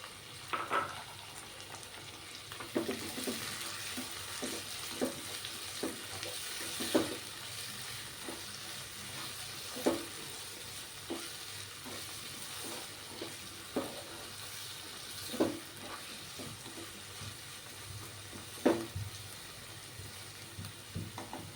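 Vegetables with tomato sizzle steadily in a hot pan while being stir-fried for Chinese Maggi, with a constant frying hiss broken by repeated scraping and stirring clinks of the spatula at irregular intervals.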